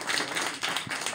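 A short burst of hand clapping from a small crowd, brief and somewhat muffled, with no talking.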